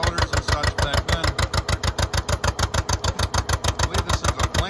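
An antique engine chugs in a steady, rapid rhythm of loud, evenly spaced pulses while driving old belt-run machinery such as a planer, heard up close with no talking.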